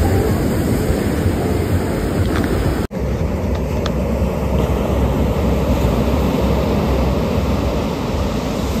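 Ocean surf rolls onto Anjuna beach in Goa at night, a loud continuous wash of waves mixed with wind buffeting the microphone, briefly interrupted by a short dropout.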